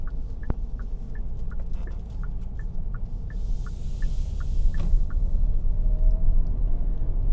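Inside a 2022 Kia Carnival SX Prestige minivan driving at night, a steady low road rumble fills the cabin while a turn signal ticks in an even rhythm for several seconds.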